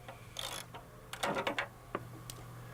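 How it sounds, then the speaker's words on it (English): A ratchet works an 8mm fastener at the bottom of a Ford F150 front fender where it meets the rocker, giving a few quiet, short bursts of clicking with pauses between them. "Remove the 8mm fastener holding the bottom of the fender to the rocker."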